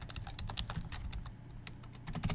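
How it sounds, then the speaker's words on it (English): Rapid, irregular clicking of typing on a computer keyboard, close and fairly quiet, with keystrokes in quick bursts and brief pauses, no talk over it. "I'm typing."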